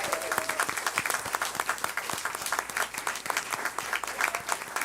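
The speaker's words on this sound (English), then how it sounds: "Let's give them a huge round of applause." An audience at a Montgomery County board of education meeting breaks into dense, sustained applause, many hands clapping at once in a lively indoor room for several seconds.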